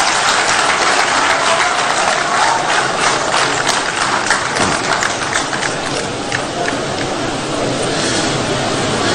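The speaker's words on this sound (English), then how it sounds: "Let's clap for him." A large crowd applauds loudly and continuously at a post-election acceptance speech in Ghana, a dense, steady wash of clapping and cheering that does not let up.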